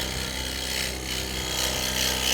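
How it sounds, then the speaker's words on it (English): A hand tool cuts a round shape for a Roman canteen, producing continuous close, dense rasping and rubbing with slight swells in strength and no pauses. "You can actually rest the bevel of the tool while you're making this cut, so it helps steady it up."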